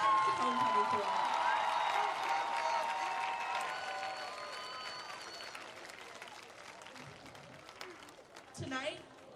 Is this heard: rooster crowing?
no